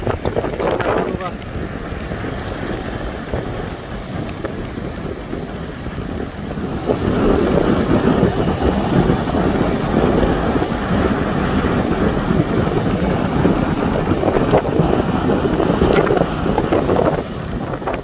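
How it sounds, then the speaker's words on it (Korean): Large ocean waves and strong wind roar steadily on the coast at Eupcheon harbor near the Gyeongju columnar joints, a continuous loud wash of surf that swells midway, with wind buffeting the microphone. "엄청난 파도가"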